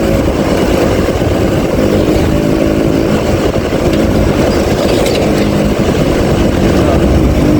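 Loud, steady engine and wind roar from a Yamaha V80 Super Deluxe motorcycle while riding, continuous throughout with no break and no speech.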